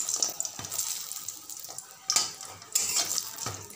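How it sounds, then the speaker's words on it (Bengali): Black gram lentil dumplings fry in oil in a pan, a steady close sizzle broken by several sharp scrapes and clinks of a spatula against the pan at irregular intervals. "এই দেখো বড়িটা ভেজে নিচ্ছি, বিউলির ডালের বড়ি"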